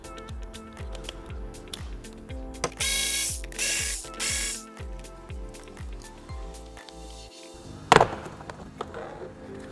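A ratchet clicks rapidly and rhythmically while backing out 10mm bolts holding a Nissan Rogue door panel, with brief pauses and a hissing burst between runs and a sharp clunk near the end, close and alone.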